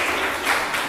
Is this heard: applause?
yes